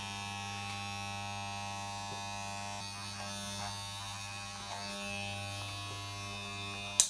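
Electric hair clippers buzzing steadily while cutting hair in a barbering session, a constant close hum with slight changes in tone as the blades move through hair.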